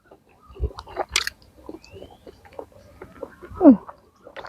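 Crunchy skin of fermented striped catfish being bitten and chewed close to the mic, with irregular crisp bites and one sharp louder crunch near the end over faint background sounds.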